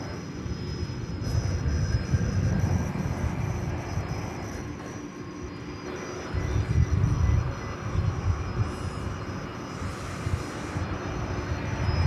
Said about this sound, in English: Another regional jet headed out to Grand Island, American Eagle 4987, a CRJ 701 ER